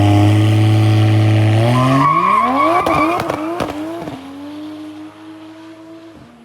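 A Toyota MKV Supra accelerates hard in a private lot, its engine note climbing through a gear change while the tires spin and squeal, loud and close, then fading away.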